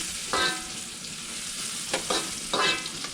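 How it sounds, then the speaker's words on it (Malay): Onions sauté in a pan while being stirred, a continuous hissing sizzle with a few brief scraping stirs of a utensil, close by and without speech. "Oh, tumis bawang ha."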